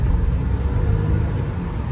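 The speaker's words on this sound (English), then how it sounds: "Let's see what this V8 will do." A 2007 BMW 750i V8 engine roars and revs up as the car accelerates, a deep steady rumble close by.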